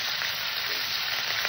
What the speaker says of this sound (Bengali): মাছটাকে আমি সুন্দর করে ভেজে নেব।